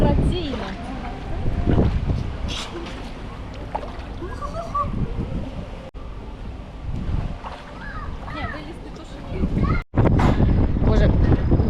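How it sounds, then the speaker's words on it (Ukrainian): Strong wind buffets the microphone in a continuous roar at an outdoor thermal water park, with pool water sounds and voices mixed in beneath it. "дуже жахливий вітер дує"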